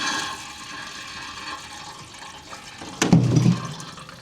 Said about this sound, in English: We have water flow.